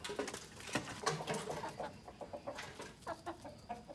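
Local chickens on a poultry farm cluck repeatedly in short, uneven bursts, close and fairly loud, with other birds faintly mixed in.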